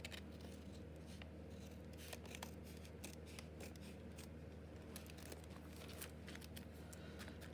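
Paper being trimmed with scissors while covering the pages of an envelope journal, a steady run of crisp snips and rustles close by, constant across the clip with no voice.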